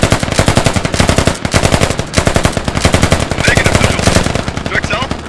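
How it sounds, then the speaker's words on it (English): Sustained automatic gunfire in the military shooter game Squad, dense rapid bursts of machine-gun fire with overlapping shots, loud and close throughout, with faint radio-like voices in the mix. "Putting suppressive fire down."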